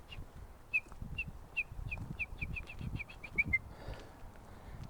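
A person imitates a wrentit's song, whistling a series of short, high, quick notes that speed up into a bouncing trill, over a low background rumble, outdoors in Mission Trails Regional Park.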